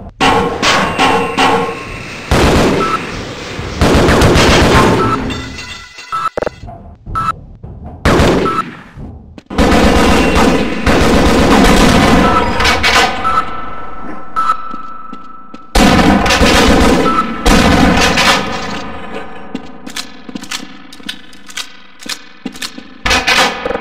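Loud pistol and automatic gunfire from the video game Half-Life, dense bursts of shots and clanging impacts in several long volleys separated by brief quiet gaps.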